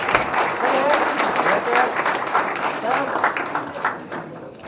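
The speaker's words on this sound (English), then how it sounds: "A big round of applause, please" An audience at a formal agricultural and food business event applauds a chief guest, a steady, loud crowd of clapping that runs throughout and eases slightly at the end, with a voice faintly underneath.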